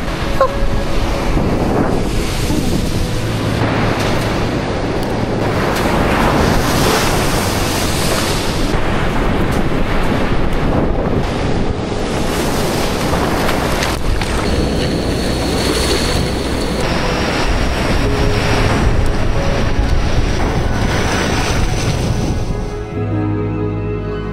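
Loud ocean surf crashes and rushes continuously, waves breaking close by on an island beach, with gusty wind noise over the microphone and no voices.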